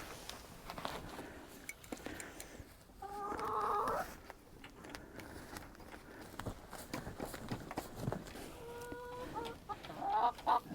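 Hens cluck and murmur softly around a yard, with a few louder squawks amid scratching and rustling, the birds moderately close and fairly quiet.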